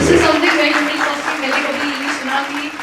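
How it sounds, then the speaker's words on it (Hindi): A live audience applauds at a medical talk on diabetes, a steady wash of clapping that stays fairly loud throughout, with a voice faintly audible under it. "which we really should take a round of applause"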